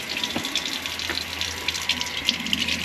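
Water runs steadily out of the water heater tank of a Globetrotter Airstream trailer as it drains, a continuous close splashing gush with a low hum underneath and occasional small knocks.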